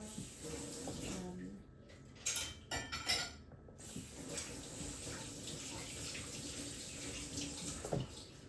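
Pot lids clank and clatter as they are handled and fitted onto matching pots, with a cluster of sharper metallic knocks midway over a steady wash of running-water-like noise.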